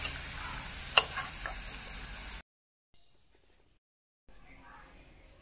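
Chicken pieces for pickle fry in oil with a bright, even sizzle and one sharp clink. The sizzle cuts to near silence, then a faint hiss returns.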